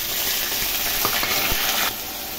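Onion paste hits hot oil in a wok with fried hog plums, giving a close, steady sizzle broken by a few soft stirring scrapes as the masala for an egg malai curry begins to cook.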